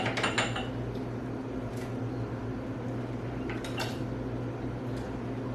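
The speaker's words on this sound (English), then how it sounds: "fill up my jars now" Glass jars being filled with homemade strawberry jam for water-bath canning, with a few light clinks of glass and utensils over a steady, low kitchen hum.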